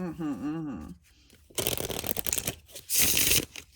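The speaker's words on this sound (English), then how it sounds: "sometimes I needed to give it a good shuffle" Oracle cards get a brisk shuffle in two rustling, riffling bursts, close and fairly loud, following a moment of a voice at the start.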